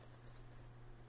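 A handful of quick keystrokes on a computer keyboard while naming a folder, light clicks in a short cluster over a steady low electrical hum.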